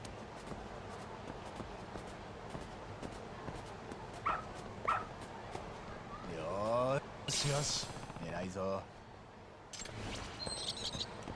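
Dog barking in the video game Lost Judgment, a few short barks and yips scattered among game sounds and footsteps, moderately loud with whimpering touches between them.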